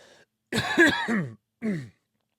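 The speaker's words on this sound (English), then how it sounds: "I just had a coughing spell" A few short throaty coughs in quick succession, close and fairly loud, followed by a pause and one more cough.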